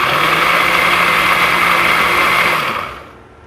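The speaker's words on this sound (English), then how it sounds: "we'll whiz it all up and you'll see all those heavy seeds fall to the bottom of the blender" A blender whizzes Tabasco peppers to separate their seeds, a loud steady whirring motor drone that runs for nearly three seconds and then winds down and fades out.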